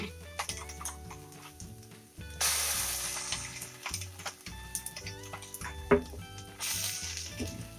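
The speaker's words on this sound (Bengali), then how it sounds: "পোস্ত আর সর্ষে বাটাটা দিয়ে দেব।" Poppy seed and mustard paste going into a pan of fried onions sets off a loud, bright sizzle that surges partway through and keeps hissing steadily beneath background music.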